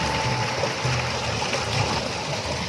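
Water rushes loudly from a small outlet (moga) of Fateh Canal into a village channel, a steady close roar and gurgle with no voices.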